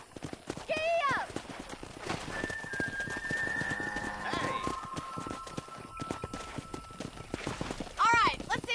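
A horse galloping in Red Dead Redemption, rapid clip-clop hoofbeats running steadily throughout, with a whinny near the start and another at the end, and people talking over the hooves.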